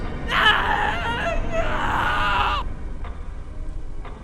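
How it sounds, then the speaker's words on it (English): A horror-story sound effect of a scream, two long, wavering, anguished cries in a row followed by faint brief echoes, loud and reverberant as if heard across a distance. "A scream could be heard in the distance."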